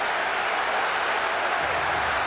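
Stadium crowd in a football video game cheering after a goal, a loud, dense roar of applause and shouting that holds steady through the short moment.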